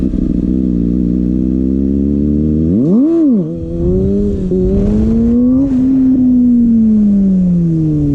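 A Kawasaki ZX6R sport motorcycle revs hard and steadily during burnouts and wheelies, its loud, close engine note holding, dipping briefly as the throttle is chopped, then climbing again.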